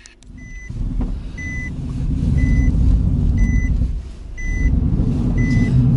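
A warmed-up car engine runs steadily with a low rumble, while a regular two-tone electronic beep repeats about once a second above it.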